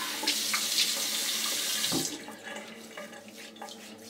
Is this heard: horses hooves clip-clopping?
no